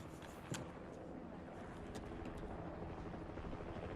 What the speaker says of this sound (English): We got a Black Ops helicopter in the background, guys.